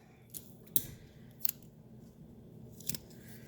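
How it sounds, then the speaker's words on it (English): Tape being torn and pressed down onto a paper math journal page, a few short sharp ripping snaps spaced apart over a quiet background. "I'm going to tape down some of these ends as well."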